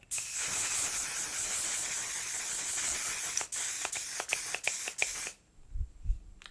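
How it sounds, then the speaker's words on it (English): One Size Until Dawn Mattifying Setting Spray hisses onto a face in a long continuous mist, then a run of short quick pumps in rhythmic bursts, close and fairly loud, ending in near silence with a couple of soft bumps. "I'm gonna go in with One Size Until Dawn Mattifying Setting Spray"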